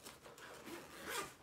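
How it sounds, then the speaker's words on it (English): Zipper on a Sprayground backpack with rustic-looking metal zippers, pulled in a steady close-up rasp lasting just over a second, with no talking. "Zipper handles."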